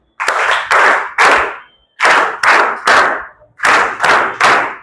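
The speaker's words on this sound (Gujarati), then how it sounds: "3 તાળીઓથી આપણે અભિવાદિત કરીએ." A school gathering in Navsari Chikhli gives three rounds of group clapping for a donor group, each round a short burst of loud, close, unison claps with brief pauses between them.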